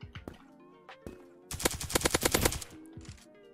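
An auto pistol fires in Krunker.io, a rapid close burst of about a dozen loud cracks lasting roughly a second, set against game music and quieter isolated shots before and after.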